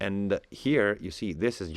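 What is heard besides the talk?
No distinct noise like a dog, phone or traffic.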